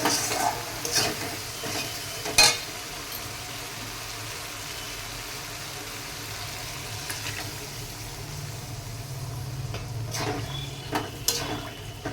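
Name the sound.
paneer and its soaking water added to frying spices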